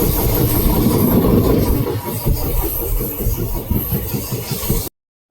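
A crowded passenger train runs along the rails with a loud, steady rumble and a rhythmic clickety-clack of wheels over rail joints, heard from on board until the sound cuts off abruptly.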